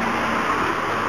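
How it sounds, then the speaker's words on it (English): A noisy van rolls past on a road, a continuous close rumble and broad tire-and-engine wash holding steady throughout. "Noisy van."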